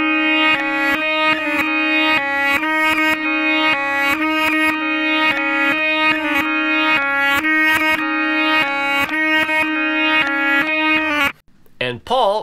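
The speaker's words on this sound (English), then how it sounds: "And backwards sounds like this." Second droning electric guitar part from a song's outro played backwards, reversed notes swelling in over a steady drone in a loud, close, rhythmic pattern, followed by a short moment of speech.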